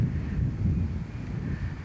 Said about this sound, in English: Real windy day today.